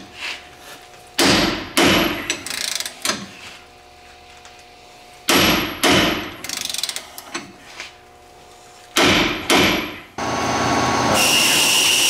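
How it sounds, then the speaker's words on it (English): Repeated metallic clanks and thuds of a hammer striking metal during a ball joint install on a 2013 Dodge Ram 3500, in clusters with ringing and rattling, pausing between bursts, close and fairly loud. "We whack it with a hammer just to relieve the pressure"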